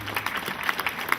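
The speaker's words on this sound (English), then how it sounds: "what about a big round of applause for Sound Solutions?" Audience applause at an outdoor stockyard gathering with speeches, a brief burst of many hands clapping together at moderate distance.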